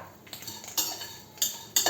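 A utensil scrapes and clinks against a pan while fried curry leaves are stirred for a chutney, with several sharp metallic strikes at irregular intervals over soft sizzling, close and without speech.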